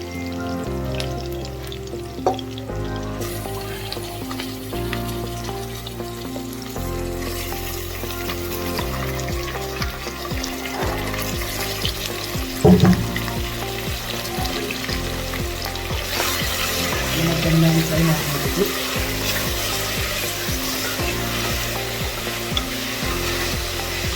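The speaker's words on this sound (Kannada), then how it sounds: "ಇವಾಗ ಇದರಲ್ಲಿ ನಾವು ಚೆನ್ನಾಗಿ ತೊಳೆದಿರೋ ಮಟನ್ನ ಹಾಕೊಳ್ಳೋಣ" Washed mutton frying in a pan for a North Karnataka village-style curry gives a steady bright sizzle throughout, with a few sharp clacks near the middle, close-up and without talk.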